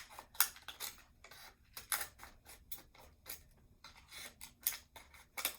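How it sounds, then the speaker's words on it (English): Scissors snip slits into plastic for a craft flower, a run of about a dozen crisp, close cuts in an uneven rhythm, some clustered in quick pairs, with no talking. "And now I'm going to cut my slits."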